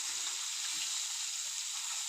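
Small poa fish sizzle in a frying pan, a dense, steady close-up hiss of hot oil with faint low bubbling underneath, no voices.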